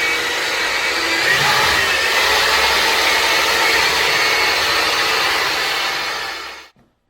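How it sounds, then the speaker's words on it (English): A drill fitted with a paddle bit whirs steadily while stirring homemade step liner material in a bucket, a continuous motor hum lasting several seconds before stopping abruptly near the end. "So we use a paddle bit."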